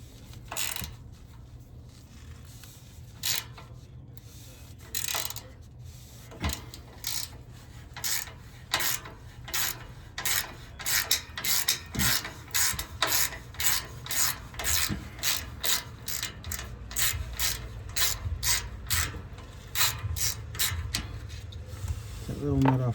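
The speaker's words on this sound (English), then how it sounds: "So you remove those little nuts right there." A hand ratchet works small nuts loose on a car's active exhaust, a series of quick clicking bursts in a steady rhythm, close and fairly loud, with someone talking in between.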